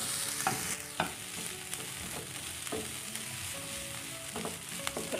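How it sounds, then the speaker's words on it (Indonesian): Onions and garlic sauté in a pan with a steady sizzle, broken by a few distinct clanks and scrapes of a spatula stirring, heard close and without talk. "Tumis sampai bawangnya matang ya."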